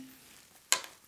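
Cork pulled from a bottle of Springbank 10 Year cask strength Scotch whisky, giving one sharp, bright pop with a short squeaky tail, close and fairly loud against a quiet room.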